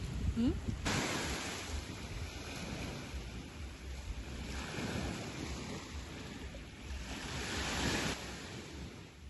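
Sea waves on the Odesa shore roll in at a calm distance, with soft surges swelling and fading every few seconds amid wind noise on the microphone.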